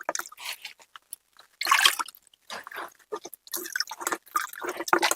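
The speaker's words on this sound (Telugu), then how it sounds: "మళ్ళీ ఒకసారి నీళ్లు పోసుకొని పిసుక్కుంటూ ఈ విధంగా చేసుకోవాల్సి ఉంటుంది" Hands knead and squeeze soaked soybean pulp in water while preparing a soybean bio-fertilizer solution, producing wet squishing, sloshing and dripping bursts in irregular spurts close by.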